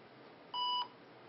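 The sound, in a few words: IBM ThinkPad 380XD laptop error beep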